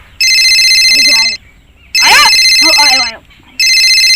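A telephone rings in repeated bursts of a loud electronic ring tone separated by short pauses, with people talking between the rings.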